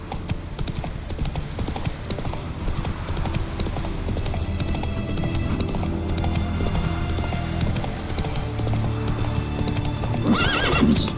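Roach, a horse in The Witcher 3: Wild Hunt, trots with steady rhythmic hoofbeats, close and loud, ending in a whinny.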